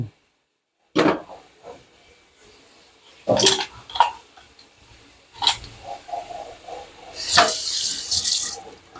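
Native chicken boiling in a pot on the stove, with a few splashy bursts of liquid and clinks of a utensil as it is stirred, close and loud between quiet gaps.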